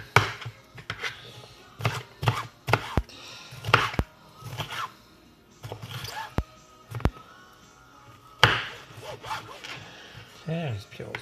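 Red pepper being chopped with a knife on a cutting mat set on a kitchen counter, a series of close, sharp knife strikes in uneven bursts with quiet gaps between them.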